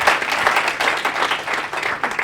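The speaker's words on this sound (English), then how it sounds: "Can we give them a round of applause?" A round of applause from the audience at a University of Johannesburg closing ceremony, a dense and steady wash of many hands clapping at once, fairly loud, with no talking over it.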